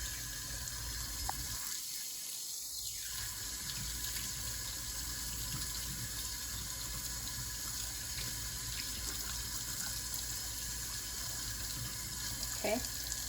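Steady, close hiss of water running from a sink tap while dentures are rinsed. It carries on continuously throughout with faint handling noises.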